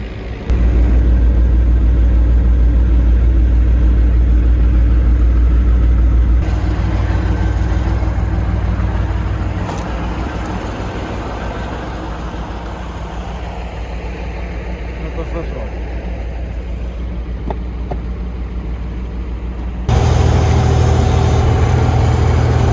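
An MTZ-82 tractor engine idles in a field during evening ploughing, a loud, steady low diesel rumble that runs unbroken throughout, dipping slightly in level midway and swelling again near the end.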